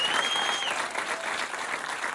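A stand-up comedy crowd claps for a woman introduced on stage, steady full-room applause with a faint tone briefly audible at the start.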